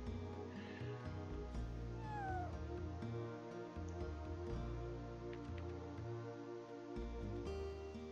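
A cat meows in the video game Chrono Cross, a couple of short rising cries over the game's steady background music.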